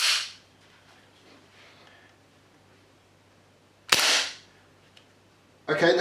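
A KWC Desert Eagle airsoft gas pistol fires three sharp, loud cracks, each with a short hiss of gas, separated by quiet pauses.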